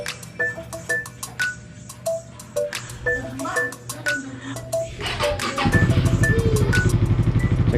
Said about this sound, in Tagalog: Check din natin yung idle niya kasi nagbabago yung idle eh.